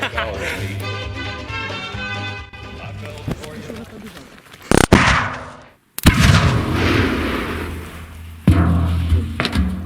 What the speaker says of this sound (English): the sound of the explosion was so powerful and bassist